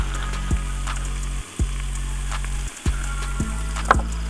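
Onions and a spoonful of cumin sizzle steadily in a pan, a close continuous frying hiss broken by a few soft clicks and two brief dips; no one speaks.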